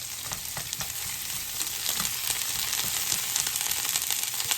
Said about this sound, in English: I am just sauteing this onion, not till translucent